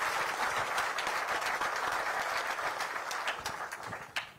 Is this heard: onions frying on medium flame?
no